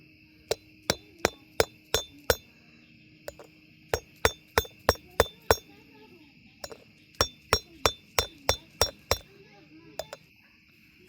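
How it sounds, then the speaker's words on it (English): Hammer blows driving a bearing into a wheel hub, sharp metallic strikes coming in quick bursts of several hits with short pauses between, close and clear over a faint steady background hum. "now we will hammer it in."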